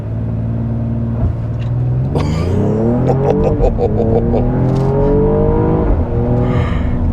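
A 2022 Mercedes-AMG GLE 53 in Sport Plus mode launches from a standstill, its engine roaring loud and close as revs climb steadily through several rising gear pulls, with a brief exhaust crackle near the end.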